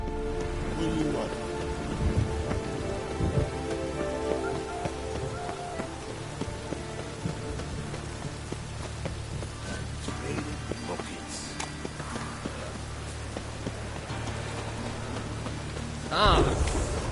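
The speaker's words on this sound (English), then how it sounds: "Lots of fuss over lots of rain." Steady heavy rain pours over an outdoor scene in The Witcher 3, with a low rolling thunder rumble beneath it throughout and a brief louder burst near the end, loud and close.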